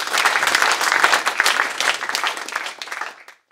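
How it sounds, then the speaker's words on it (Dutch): An audience at a museum lecture gives a lecturer warm applause, a dense burst of many hands clapping that holds steady, then thins and dies away into silence. "Maar graag dus eerst een hartelijk applaus voor Frank van der Schoor."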